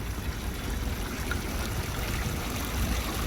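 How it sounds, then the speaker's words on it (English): Water pours steadily from the trunk of an elephant sculpture fountain on a street in Deira, Dubai, a continuous splashing rush with a low rumble beneath, close and even throughout with no talk. "A beautiful water fountain"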